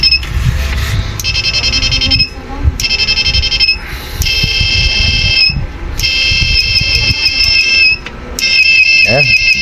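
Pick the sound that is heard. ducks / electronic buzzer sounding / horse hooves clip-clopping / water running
electronic buzzer sounding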